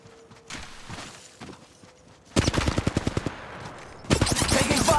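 Rapid automatic gunfire rattles in Apex Legends Mobile, with bursts of close, loud shots after quieter distant firing and footsteps, and a second burst near the end.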